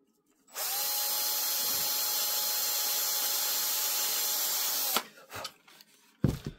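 A power drill bores into wood to set dowel alignment on a Guillows Cessna 170 model plane wing conversion, running as a loud steady whine for about four seconds, then stopping with a few short bumps and handling noises.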